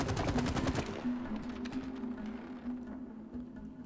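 Gunfire in the video game It Takes Two opens with a rapid burst of shots for under a second, then gives way to a faint steady hum from the game.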